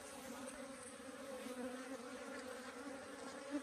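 Low, steady buzzing of many honey bees close by at a beehive, a continuous humming drone without talk.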